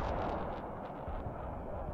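Artillery fire in the Broken Arrow war game, a continuous low rumble of distant shelling with soft repeated thuds rolling under one another, fairly faint and unbroken.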